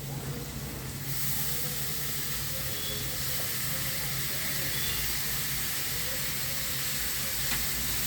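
Finely cut tomato pieces for a cucumber, tomato and potato curry sizzle in a hot pan, a loud, steady hiss that swells after the first second and keeps going with no voices.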